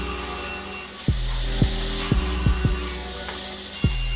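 A hand saw cuts wood for a lantern carry case in close, rhythmic strokes, about six rasping pushes heard alone with no speech.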